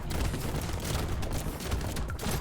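Shotgun fire in the top-down roguelike shooter Brotato: a dense, continuous barrage of overlapping blasts and impacts, loud and busy throughout with no pauses.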